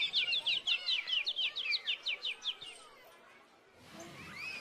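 A small bird sings a rapid trill of repeated chirps over a quiet street scene, then fades to soft background ambience.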